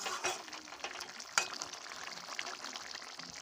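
Village-style chicken curry with garam masala gets stirred in a pan, making a soft, close sizzle with scraping strokes and a sharp clink partway through.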